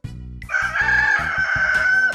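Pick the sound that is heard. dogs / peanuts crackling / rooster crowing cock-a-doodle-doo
rooster crowing cock-a-doodle-doo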